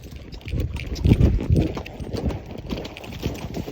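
Hooves of a horse cantering on a trail, a loose rhythmic thudding that is close and fairly loud, with some wind noise behind it.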